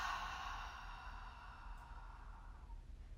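A forceful open-mouth exhale during a core breathing exercise, a long airy breath lasting about two and a half seconds, close and steady, tapering off with no talk.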